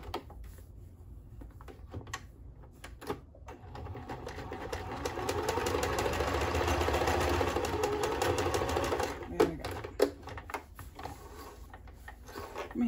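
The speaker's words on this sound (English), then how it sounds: "the sewing machine's meant to do that, I guess" A sewing machine whirs in a quiet room, with short start-stop bursts that build into a sustained, louder run before slowing into scattered clicks and thumps.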